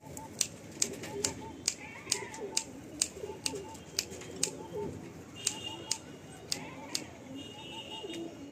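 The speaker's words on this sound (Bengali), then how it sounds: "সব বাইরে থেকেই আনা পায়রা।" Imported Andhra pigeons coo low and steadily in a large loft in Kolkata, with sharp clicks and taps scattered over the murmur and soft talk nearby.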